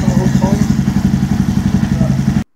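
An Aprilia Tuono twin-cylinder motorcycle engine idles close by with a loud, steady, lumpy pulse of regular beats, then cuts off abruptly at the end.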